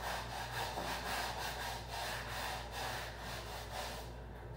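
A brush scrubs Yeezy 350 Butters sneakers in steady, rhythmic back-and-forth strokes, a close, even rasp that continues with no voices.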